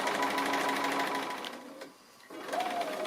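A sewing machine stitches appliqué leaves and branches on a quilt, its fast steady whirring close up, pausing briefly before starting again.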